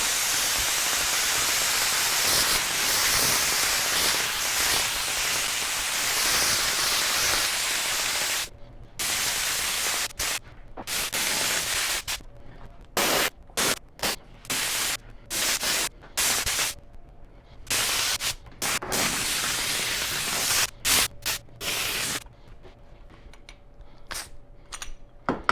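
Weldwood spray adhesive hisses from an aerosol can onto a car headliner panel and sound-deadening foam. A steady, close spray runs for several seconds, then breaks into a series of short, sharp bursts with brief pauses between them.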